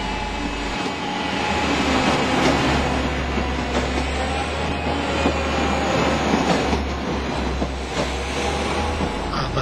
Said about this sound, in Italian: attesa che il treno discendente riesca a ripartire da Sulzano